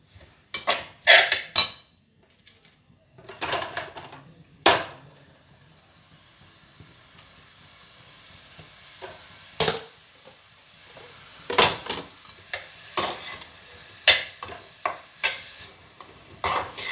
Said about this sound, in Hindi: सारी कद्दूकस की हुई गाजर को मिला लेंगे, घी में मिक्स कर देंगे और अब इसको हम भुनना शुरू कर देंगे।